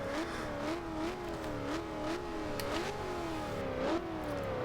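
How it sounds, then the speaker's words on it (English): A 2000 Ford Mustang SVT Cobra R engine with side exhaust in Forza Horizon 2 revs steadily, its pitch rising and falling in repeated loud surges, close and continuous with no talk. "that is a mean sounding engine"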